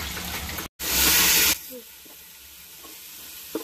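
Chicken frying in hot oil in a home kitchen, a loud broadband sizzle that swells for under a second after a brief break, then drops to a quieter steady hiss with faint clinks.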